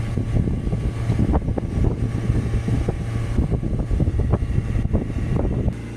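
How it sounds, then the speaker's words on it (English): Wind noise rushing through an open window of a moving Citroen C4 Grand Picasso, a loud, constant buffeting roar with low engine rumble underneath and no talk. "Just put that window up because of the wind noise."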